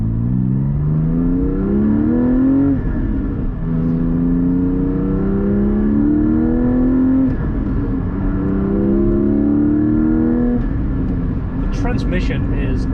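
Porsche GT4 engine pulling through gears while driving on a country road, rising harmonic sweeps as revs climb and drop with each shift, steady and close throughout, with a voice talking over it.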